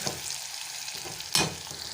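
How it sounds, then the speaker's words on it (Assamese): Potatoes with salt and turmeric sizzle in hot oil, a close, crackling fry with a brief louder burst of sizzle as they are stirred. "অকণমান নিমখ আৰু হালধি দি এনেকৈ আলুখিনি ফ্ৰাই কৰি লৈছোঁ।"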